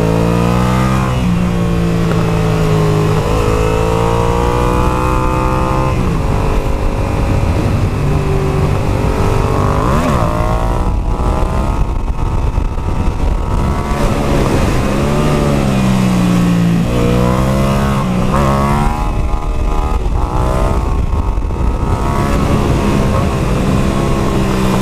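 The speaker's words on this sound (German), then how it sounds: "Das Motorrad macht so Spaß. Ich liebe den Motor." A Yamaha MT-07 motorcycle engine roars continuously and loudly, its pitch rising and falling as it revs and shifts, with heavy wind noise throughout.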